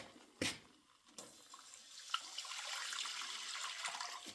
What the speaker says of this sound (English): we're going to pour in the milk, which is 3 cups of whole milk.